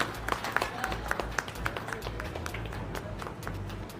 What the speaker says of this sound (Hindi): ताली बजाते रहिएगा